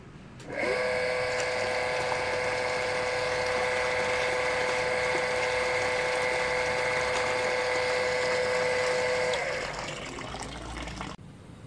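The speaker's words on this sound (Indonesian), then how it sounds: "Sekarang kita akan nyalakan pompa." A water pump starts up and runs with a loud, steady mechanical whine and hum while water flows, holding constant for about nine seconds before winding down and stopping.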